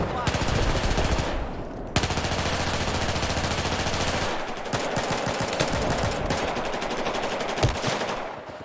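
Rapid automatic gunfire in the video game Battlefield 4, dense sustained bursts with a brief gap, then choppier repeated shots, loud and close, with a voice faintly underneath.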